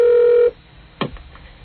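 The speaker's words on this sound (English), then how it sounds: "Oh, wait, I'm getting through now, Rob." A telephone line on a live radio show connecting: a steady loud tone cuts off, followed after a pause by a brief click and a faint, short line noise.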